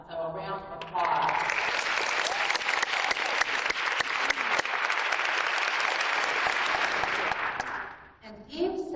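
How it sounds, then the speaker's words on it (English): An audience at a One Billion Rising event in Atlanta bursts into loud, sustained applause and some cheering after a speaker's brief words, dense clapping that holds for several seconds before fading as talking resumes. "So a round of applause."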